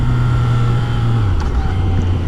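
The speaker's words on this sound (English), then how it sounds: "You leave this stock exhaust, which sounds very civilized" A Yamaha XSR900 motorcycle with its stock exhaust rides steadily, a loud continuous engine drone with a low throbbing note and rushing wind, no talking over it.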